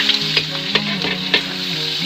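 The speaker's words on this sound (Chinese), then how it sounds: "给它小火煸炒出油脂" Sliced pork belly stir-frying in a wok over low heat to render its fat, a steady close sizzle with a few brief clattering stirs of the spatula, no voices.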